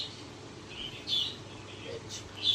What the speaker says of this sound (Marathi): आपले पोपटा रेडी आहेत ते आवाज देतात